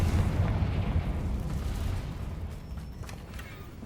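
A Confringo blasting spell going off in Hogwarts Legacy: a deep rumbling explosion that booms at the start and rolls off into a fading low roar, with no talking.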